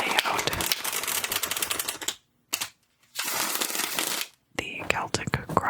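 Tarot cards are shuffled and laid out one after another in a Celtic Cross spread, giving close, crisp papery slaps and rustles. Brief silent gaps separate bursts of handling.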